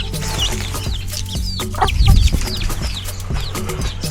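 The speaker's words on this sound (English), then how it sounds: "We have chickens here." Chickens in a Kenyan village cluck repeatedly and loudly close by, with sharp overlapping calls over low rumbling background noise and a brief louder burst near the middle.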